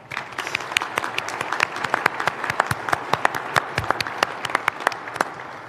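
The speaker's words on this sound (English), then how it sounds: "Let's give them a round of applause." Audience applause during the Riverside mayor's State of the City address, dense and steady clapping from a large crowd lasting throughout, with sharp individual claps standing out near the front.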